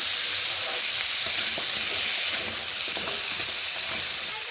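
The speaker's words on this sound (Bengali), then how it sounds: "এখানে আমি একসঙ্গে আলু পেঁপে ও গাজরগুলোকে ভেজে নিচ্ছি" Potato, papaya and carrot pieces frying together in oil, a loud continuous bright hiss and crackle with faint stirring clicks beneath, close and unbroken throughout.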